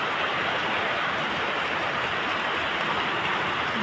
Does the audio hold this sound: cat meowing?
no